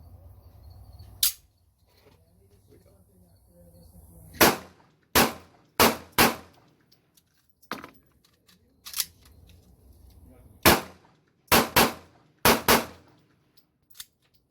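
Pistol shots from a Sig P239, an H&K USP Compact and a Springfield 1911 Compact, a string of about a dozen sharp reports in quick pairs and singles, fairly distant, over faint background noise.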